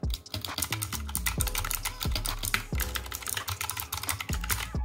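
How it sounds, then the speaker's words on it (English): Close, brisk typing on a Razer Huntsman Mini keyboard with Razer purple clicky switches, rapid crisp clicks and clacks in irregular bursts with no talking. "It's the Razer Huntsman Mini, and this is how it sounds."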